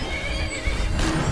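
A horse in Skyrim whinnies loudly and close, a short neigh with hoof-like clatter in a brief burst.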